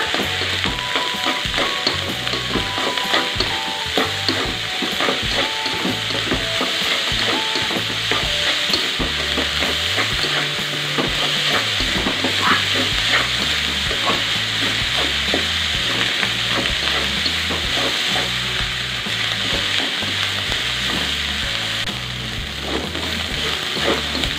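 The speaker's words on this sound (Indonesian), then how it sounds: "Oke, sekarang aduk kembali sampai tercampur rata bumbunya" Continuous sizzling of fried rice frying in a pan, with steady scraping and stirring strokes throughout, close and fairly loud, no talking.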